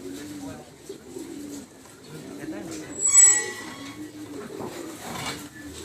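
Pigeons at a loft coo in soft, repeated low burbling phrases throughout, with a brief brighter burst of noise in the middle and people talking in the background.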